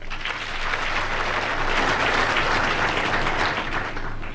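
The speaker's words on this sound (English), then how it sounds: "Let us applaud them all." A large audience applauds for graduating champions at an International Women's Day ceremony, a sustained, even wash of clapping that swells slightly midway and holds steady.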